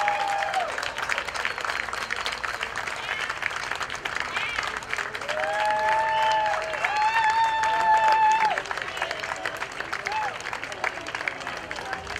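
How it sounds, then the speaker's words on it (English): Applause and scattered clapping from a parade crowd along a street on Balboa Island as a World War II veteran passes, steady and continuous for several seconds, with a voice speaking over it and whistles or tones rising midway. "Let's have a nice round of applause."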